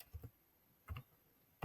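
Three brief pairs of computer keyboard clicks as a command is typed, each key press soft and close, separated by short pauses in an otherwise quiet room.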